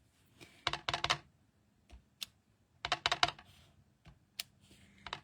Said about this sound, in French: je vais aller directement étamper mes petites enveloppes